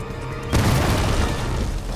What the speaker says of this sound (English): boom goes the pumpkin bomb